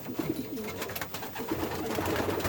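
Racing homing pigeons coo in a loft with a dirty floor, a dense, continuous murmur of overlapping low coos close by, with no one speaking.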